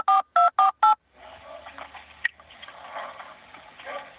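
Four crisp telephone keypad tones beep in quick succession, then a low line hiss and a faint muffled background take over on a recorded 911 call.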